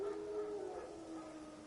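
Wild dogs howling in The Witcher 3 video game, a faint, drawn-out howl rising briefly within a dense, steady ambient wash of game background sound, with no voices.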